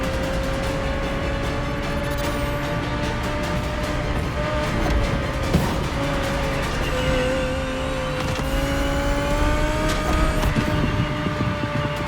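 A 2020 Audi R8 LMS GT2 racing car in The Crew Motorfest, its engine droning loud and steady at high revs with shifting pitch and brief gear changes throughout.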